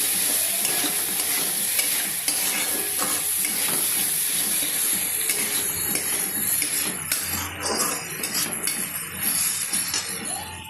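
Vegetables fry in a pan with steady loud sizzling and hissing, broken by frequent scraping stir strokes and faint utensil clinks, continuous and close with no talk.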